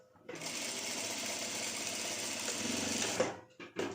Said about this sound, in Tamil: ஒரு ஸ்டிச் வந்து எல்லாத்தையும் சேர்த்து வச்சு போடணும்